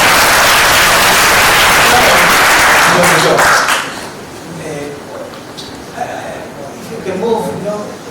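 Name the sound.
audience applause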